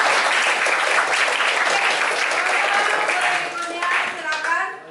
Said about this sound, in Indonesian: berikan tepuk tangan untuk kelompok ini